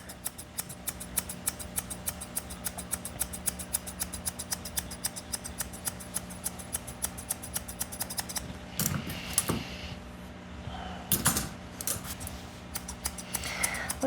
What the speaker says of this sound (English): I'm gonna use my other scissors here to bevel this.